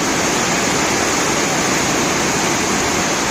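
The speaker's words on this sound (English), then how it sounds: "So we'll drain it all out." Petrol draining out of a generator carburetor, a steady loud rushing splash of liquid pouring without a break.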